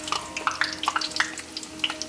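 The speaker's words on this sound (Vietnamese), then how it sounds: "Mình lấy một cái xúc xích mình đi. Thả vô dầu mình đi." Korean sausage fries in hot oil, giving close, steady sizzling with quick popping crackles scattered throughout, moderately loud and with no voices.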